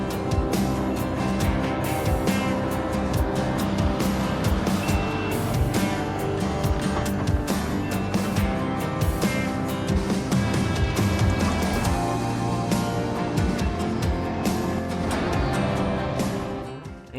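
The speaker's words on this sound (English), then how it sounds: "Skid steer here." Kubota 95-2s skid steer running, a loud continuous engine rumble with clanking and shifting load throughout, close by and without talk.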